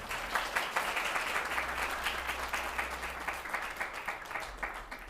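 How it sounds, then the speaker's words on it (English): Sustained applause from an audience at a spiritual talk, a dense steady patter of many hands clapping at moderate loudness with no voices over it. "he deserves a clap for Dada actually."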